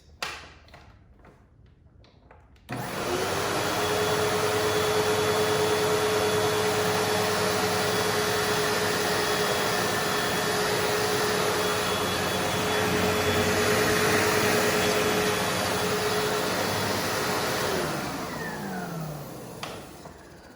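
A Sebo X4 vacuum cleaner on a flour-dusted hard floor switches on abruptly after a short quiet stretch and runs with a loud, steady motor whine for about fifteen seconds, then spins down toward the end.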